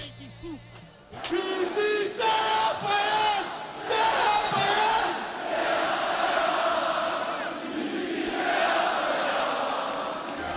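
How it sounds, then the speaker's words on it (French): Roughly 30,000 fans in a stadium cheer the MHSC football team on its arrival, a big swelling roar with whoops and shouts after a brief quieter start, staying loud and dense, with voices audible in the din. "Lorsque l'équipe du MHSC arrive, la foule est en délire"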